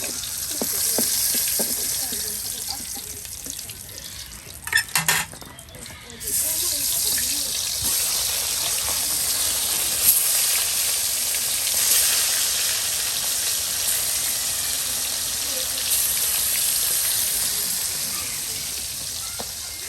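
Hilsa fish pieces frying in hot oil, with a loud, steady hiss and crackle throughout, a brief clatter of utensils partway through, then the sizzle continuing unbroken.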